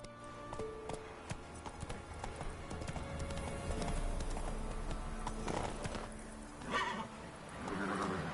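Geralt's horse Roach in The Witcher video game whinnies clearly and trots with steady clip-clop hoofbeats, layered over game ambience and music, with a second neigh near the end.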